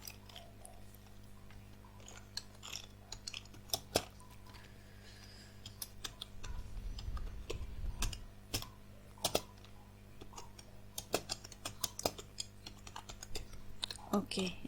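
Fingers tap out a prompt for ChatGPT on a computer keyboard in quick, irregular bursts of light clicks, close and fairly quiet over a low steady room hum.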